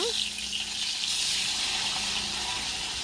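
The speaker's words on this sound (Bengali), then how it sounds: "এখানে মাছের মাথাটা খুব ভালো করে ভেজে নিব।" Fish head frying in hot oil in a pan for a Bengali fish-head and cabbage dish, giving a steady, close, broadband sizzle that runs the whole time with no talk over it.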